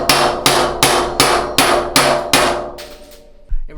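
Loud hammer strikes on a bicycle bottom bracket in a workshop: seven sharp, ringing metallic blows at a steady rhythm, each decaying into reverberation, followed by a fainter clatter at the end.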